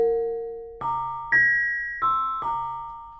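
A ring-modulated tone from an analog modular synthesizer plays as a sequence of five sustained, metallic notes with inharmonic overtones. Each note enters with a sharp attack and then decays slowly, loud and close with no voices.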